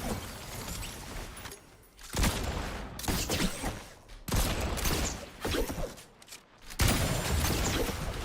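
Gunfire rings out in a Fortnite match, with bursts of shots and booming impacts arriving in loud clusters across the scene and short lulls between them.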